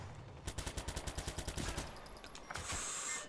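Rapid burst of gunfire in Watch Dogs 2 multiplayer, about a dozen evenly spaced sharp shots over roughly a second and a half, followed by a few scattered reports and a louder hiss at the end.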